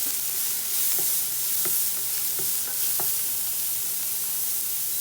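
Half a cup of chopped onion sautés in a pan, a steady loud sizzle with a few clicks of a spoon stirring through it, no voices.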